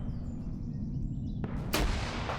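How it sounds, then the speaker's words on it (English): A rocket launches in a video game with a sudden loud whooshing burst over a steady low rumble, arriving near the end after a stretch of droning background. "Oh, I made a rocket fly up here."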